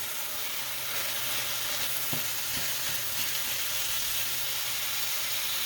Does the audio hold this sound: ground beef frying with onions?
yes